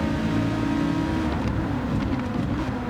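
A Dodge Viper's engine pulls hard in fifth gear on a race track, a loud, close, sustained drone that keeps a steady growl as it accelerates.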